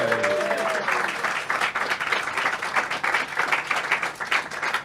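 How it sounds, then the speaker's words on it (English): A live theatre audience claps and applauds steadily throughout at a Halloween night comedy storytelling show, dense and fairly loud, with a faint whistle or voice near the start. "we've never had to prompt applause so hard"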